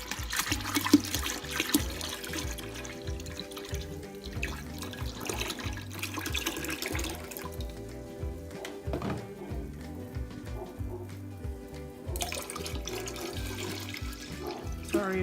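Simply Peach juice pours steadily from a bottle into a container for peach cobbler moonshine, a continuous liquid splashing that runs for the whole stretch, close and moderately loud with no talking.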